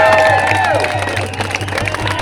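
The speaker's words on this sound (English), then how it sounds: "Massive round of applause." Rally crowd outside Parliament House in Canberra applauding and cheering, a dense steady wash of clapping and voices with whistle-like tones over it, loud and close throughout.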